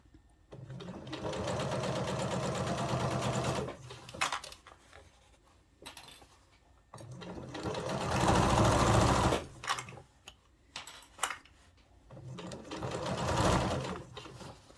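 A sewing machine stitches a jeans hem over a thick seam hump, running in several bursts of steady rapid whirring with short pauses between, loud and close, the longest run near the middle.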